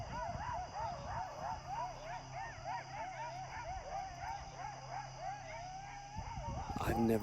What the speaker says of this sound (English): Do you hear those coyotes?